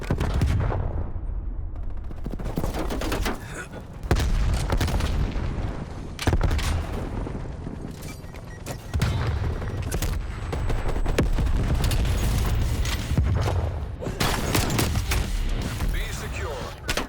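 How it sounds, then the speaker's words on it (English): Incoming artillery in Call of Duty Black Ops Cold War: a rapid barrage of gunfire and heavy booms bursts out in repeated waves, loud and close, with voices mixed into the battle noise. "Artillery targeting detected. Incoming artillery."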